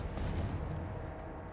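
A Confringo spell explosion in Hogwarts Legacy, a short burst with a booming blast that fades out quickly.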